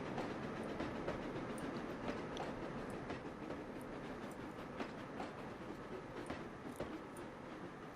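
A train rolls along the rails in the Trainz railway simulator, a steady rumble with regular clickety-clack wheel beats over the joints, moderately loud and continuous with no talking.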